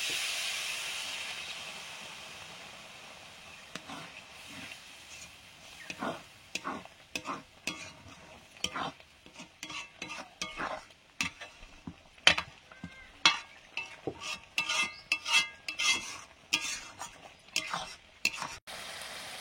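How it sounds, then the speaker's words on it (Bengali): A spice paste with green chilli and water being sautéed in a pan: a loud hiss and steam burst at first, then repeated rhythmic scraping and stirring strokes with crackling sizzle, close up. "কাঁচা লঙ্কা, জল দিয়ে মশলাটা কষবো।"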